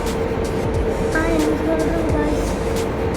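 Steady rumble and rattle inside a moving passenger train in Chennai, continuous carriage noise throughout with faint tonal squeals, no clear talk.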